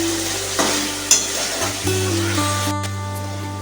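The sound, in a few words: stirring shahi garam masala into frying egg curry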